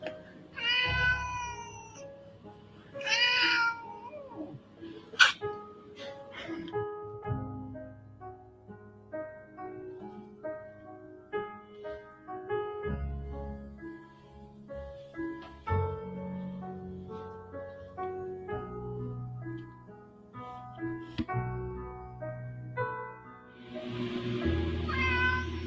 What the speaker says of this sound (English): you hear the kitty